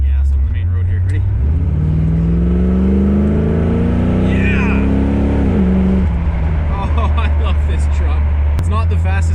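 V8-swapped 1986 GMC S15 Jimmy with tuned-port injection accelerating along a main road, the engine note climbing steadily through a long pull before a shift and settling back, loud and close from inside the cabin.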